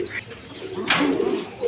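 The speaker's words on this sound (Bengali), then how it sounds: "একদম ফ্রেশ কোয়ালিটির রাসগোল্লা কবুতর" Pigeons cooing at a pigeon farm, with a soft throaty coo rising midway among other birds, fairly close, over low background murmur.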